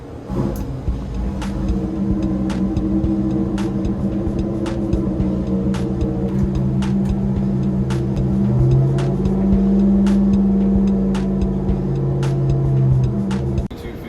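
A 465-horsepower small-block engine running steadily on a dyno, a loud continuous drone whose pitch rises and holds during the pull, with faint regular ticks throughout.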